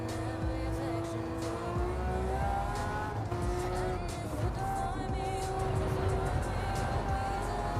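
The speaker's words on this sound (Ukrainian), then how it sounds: "Машина дуже мощна." A powerful race car engine roars continuously in the Gran Turismo 7 video game, with rising and shifting tonal whines through gear changes and faint tire noise.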